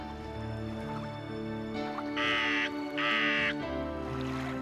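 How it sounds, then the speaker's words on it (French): A crow caws twice in a cartoon about Noah's ark, two loud harsh calls in quick succession over a steady animated background score. "Jour après jour, le corbeau s'éloignait à tire-d'aile."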